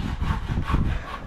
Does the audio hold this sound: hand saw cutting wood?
yes